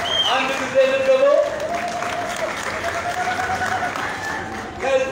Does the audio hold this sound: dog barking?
no